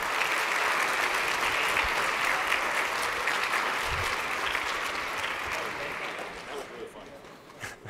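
An audience applauds to welcome the moderator at a civic engagement event, a dense, steady wash of clapping that holds loud and slowly thins toward the end.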